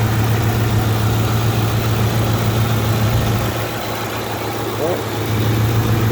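A 2002 Ford Expedition engine idles steadily after being started for the first time in over a year, a constant low hum with a strong drone holding throughout, continuous and close.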